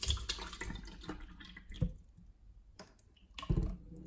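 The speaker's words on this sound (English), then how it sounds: "Let's pour some water in." Purified drinking water with added electrolytes poured into a small cup, giving close, intermittent splashing and trickling with a few sharp bursts and quiet gaps between pours.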